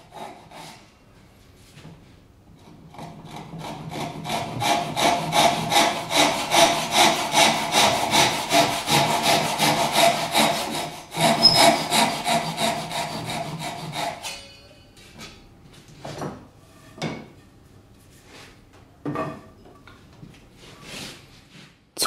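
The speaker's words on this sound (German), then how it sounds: "Die Säge läuft fast wie von selbst in der vorgegebenen Schräge." A Japanese hand saw cuts an angled dovetail in wood with a run of fast, rhythmic rasping strokes that then stops, followed by scattered scraping and tapping of the workpiece.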